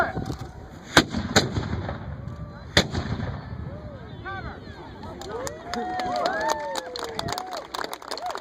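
Artillery cannons fired by a battery of three guns at a Williamsburg troop demonstration: two sharp, booming reports about two seconds apart, each trailing off into rumble. Crowd murmur, voices and shouts continue beneath and after.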